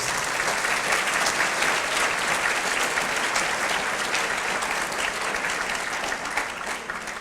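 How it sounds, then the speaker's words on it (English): Loud, sustained applause from an audience at a Contra Costa County Teachers of the Year event honours the evening's supporters, with thick, even clapping lasting throughout. "So let's hear a round of applause for our supporters."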